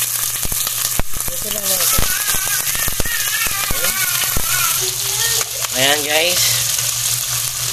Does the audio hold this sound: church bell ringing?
no